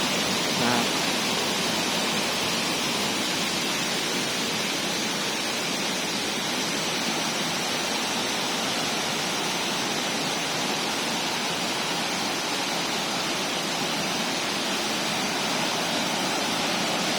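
Huai Mae Khamin waterfall in Srinagarind Dam National Park, Kanchanaburi, a steady loud broadband rush of falling water, continuous and unbroken throughout.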